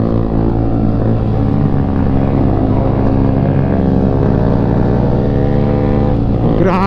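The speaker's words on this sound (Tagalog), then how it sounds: "Buti malakas arangkada ng motor ko." A Honda Dash 110 motorcycle engine accelerates with a loud, close buzzing drone and rising harmonic tones, steady throughout.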